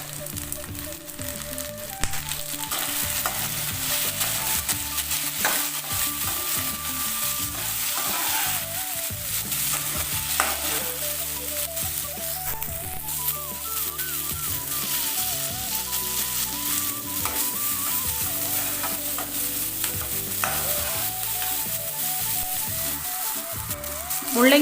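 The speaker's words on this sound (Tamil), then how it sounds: "வெங்காயம் வணங்கினதும் தக்காளி போட்டுக்கலாம்." Onion and tomato sauté in a pan for radish chutney, a steady bright sizzle with intermittent stirring and scraping running throughout, close and continuous with no talk.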